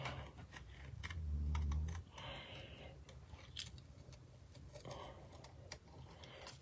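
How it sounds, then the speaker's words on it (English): Scissors snip through paper while a greeting card is being trimmed, quiet close crisp cuts in a brief cluster and then scattered single snips in an otherwise hushed room. "now I'm going to cut this"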